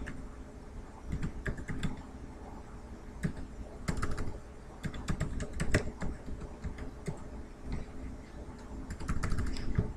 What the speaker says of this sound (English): Then type in a password, and then make a username.